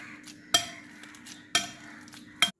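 Ripe bananas are mashed in a bowl for a Malabar kochikka snack. Three sharp utensil knocks against the bowl land about a second apart, with a faint, quiet background between them.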